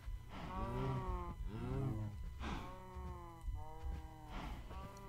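Cows moo repeatedly in the video game Minecraft, four or five long drawn-out lowing calls in a loose rhythm, fairly close and moderately loud, with no speech.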